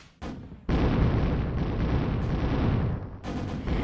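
Artillery fire in the Zero-K strategy game, a sustained roaring barrage of heavy booms and rumbling explosions, loud and dense, with a brief break before another burst.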